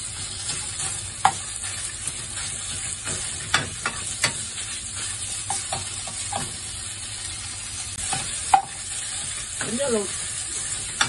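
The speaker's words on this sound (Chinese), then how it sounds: "可以呢落啲肉碎落去啦" Minced meat and garlic stir-fried in a wok for fish-fragrant eggplant, a steady sizzle with scattered clicks and scrapes of the spatula, and a brief voice over the cooking.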